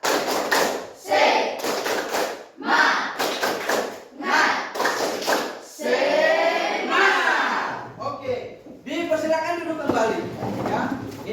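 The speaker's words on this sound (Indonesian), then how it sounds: "Tepuk semangat." A classroom of standing students performs the rhythmic Indonesian 'tepuk semangat' spirit clap, with patterned bursts of clapping mixed with loud group chanting and voices calling out together.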